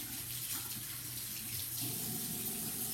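Hands being washed under a running tap, a steady close gush of water splashing into a sink throughout, with no talk.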